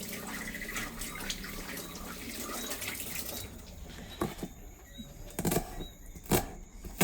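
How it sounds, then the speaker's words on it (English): Scallion stalks washed under a running tap, a steady rush of water for the first half, then scattered splashes and handling clatter, close and moderately quiet. "We also clean those thoroughly and wash those as well thoroughly."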